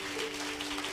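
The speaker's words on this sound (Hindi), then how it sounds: "ताली बजा सकते प्रभु के लिए?" A congregation claps for the Lord during a Hindi church sermon: a brief, steady wash of dense clapping with no break, with a low held tone running beneath it.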